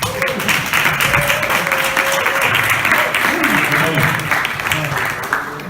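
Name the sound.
audience applause at literary round table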